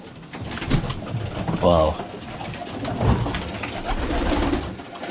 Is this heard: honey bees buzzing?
no